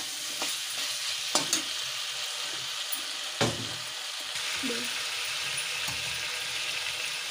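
Sambhar ingredients with salt fry in a pan, giving an even, steady sizzle while a spoon stirs them. The spoon adds a few louder scrapes and clinks against the pan, with no talking.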